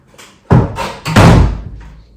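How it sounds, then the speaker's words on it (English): Doors closed indoors: two solid thuds about half a second apart, near and loud, each with a brief rattling tail, in a quiet room. "Got a noisy puppy, let me close the doors."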